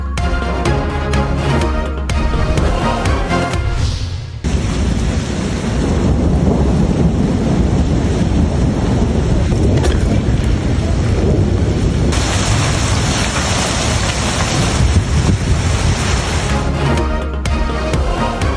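Torrential rain and hail in Islamabad pound down with gusting wind, a loud, dense, continuous roar that fills the whole stretch, with rough shifts in texture and no voices.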